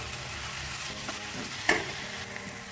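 Garlic-ginger paste and torn bay leaves sizzle steadily in hot oil in a pan, a close continuous crackle with a light stirring scrape partway through, no talking.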